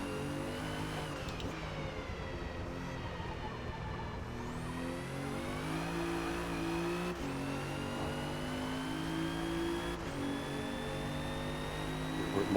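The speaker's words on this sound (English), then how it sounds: "as I spin the back tires up" A 2017 Alfa Romeo Giulia in Forza Motorsport, driving at Sunset Peninsula, revs hard as the rear tires spin up, its engine note climbing and dropping steadily through gear changes, loud and continuous with no talk.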